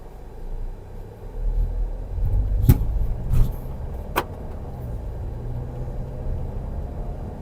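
Tata Safari 2022 XZA Plus SUV in city drive mode, a steady low engine and road rumble as it accelerates, with a few sharp clicks or knocks from inside the cabin.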